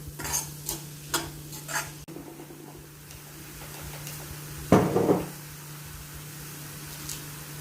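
Mixed vegetables seasoned with salt and white pepper cook in a pan for spring roll filling, giving a soft steady sizzle with intermittent stirring scrapes and a louder clatter of the spoon near the middle.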